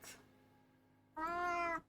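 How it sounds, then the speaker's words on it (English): A domestic cat gives a single clear, drawn-out meow up close, preceded by faint quiet background. "So to say meow in Russian, we say мяукать."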